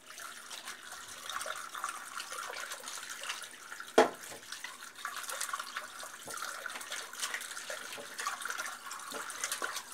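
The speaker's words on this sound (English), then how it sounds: "So now I'll wash the cup that we used to drink our Slovenian coffee a little bit before." A coffee cup being washed under a running kitchen tap, with a steady quiet stream of water and one sharp clink of the cup partway through, with no one talking.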